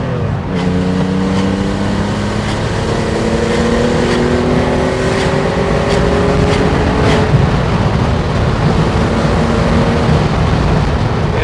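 A 1983 Porsche 911 SC built as a 1974 911 IROC tribute cruises at part throttle in fourth gear, its engine a steady loud drone heard from inside the car, with the pitch slowly rising and falling.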